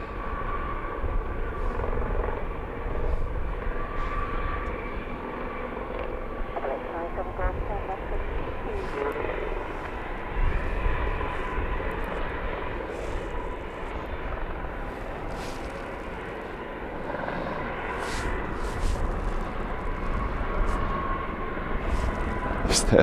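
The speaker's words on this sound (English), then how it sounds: "So now I thought I could hear a heli directly behind me" A helicopter flies low near Luton Airport, a steady broadband rotor and engine drone holding throughout and swelling slightly at times, with faint voices beneath.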